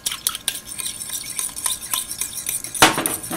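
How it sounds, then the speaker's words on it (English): A fork whisking xylitol into a liquid for a Vietnamese spring roll dipping sauce, quick rhythmic metal clicks against a bowl close up, ending in a louder scrape. "So we're going to whisk that in."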